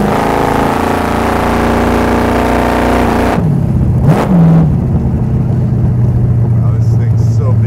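A loud, chopped and dropped custom 1929 Ford Model A hot rod engine roars close by, then abruptly drops off and settles into a low, rumbling idle with a brief blip of throttle.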